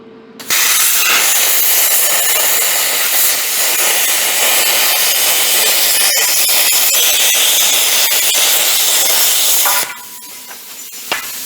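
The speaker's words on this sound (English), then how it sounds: "Let's cut this out with a plasma cutter." A plasma cutter slicing through metal on a 1978 Ford Fairmont project, producing a loud, continuous close-up hiss and roar for about nine seconds, with crackling pops toward the end before it cuts off, leaving quieter background noise.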